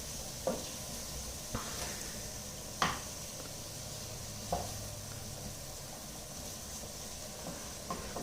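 Onions sizzling in a pan on the highest heat setting, a steady hiss broken by a few sharp clinks and scrapes of a utensil, moderately close with no speech.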